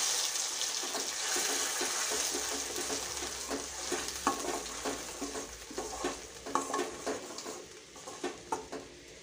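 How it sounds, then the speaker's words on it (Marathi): Spice paste sizzles and crackles in hot oil, with a steady frying hiss punctuated by the scrape and clatter of stirring in a pan. "आता हे जे वाटण आहे हे छान तेलामध्ये परतून घ्यायचं आहे"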